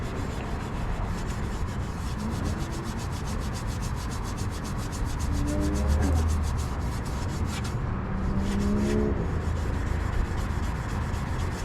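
Steady, continuous rubbing of a cloth scrubbing built-up black carbon soot off chrome exhaust tips, a close, even friction sound running throughout with no talk.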